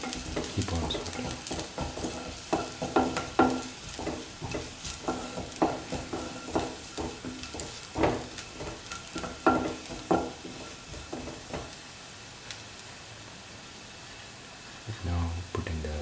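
Chicken pasta soup ingredients sauteing and being stirred in a pan, with steady sizzling and repeated scraping strokes at close range, quieting toward the end.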